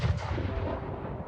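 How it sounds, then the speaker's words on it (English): In The Hunger Games Simulator, a single distant cannon shot booms heavily, rumbling low and far off, then fades slowly into a dull roar. "1 cannon shot can be heard in the distance."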